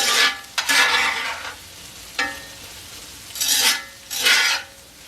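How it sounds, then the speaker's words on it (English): Breakfast scramble with sweet potatoes stirred in a skillet, giving several scraping, sizzling bursts separated by short pauses, close and moderately loud with no talk. "Let's give her a stir."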